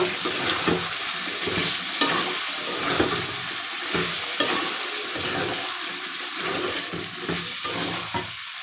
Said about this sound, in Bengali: দেখুন, আবার একটু আমি নেড়ে দেব।